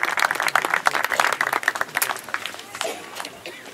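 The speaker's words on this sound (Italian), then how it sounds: "Un applauso al generale" Audience applause at an international peace award ceremony as an air force general presents an award, a busy patter of clapping hands at moderate level over a murmur of voices, tapering off toward the end.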